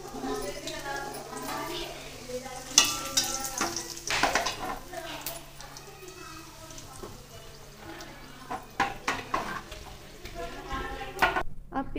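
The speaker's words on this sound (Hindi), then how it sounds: "गोभी गोश्त बनाने के लिए हमने तेल गरम कर लिया है। इसमें जीरा और साबुत लाल मिर्च डालेंगे।" Cumin seeds and whole red chillies sizzling in hot oil for a cabbage and mutton curry, a steady crackling fry with utensil clinks and stirring, with background speech and noise throughout.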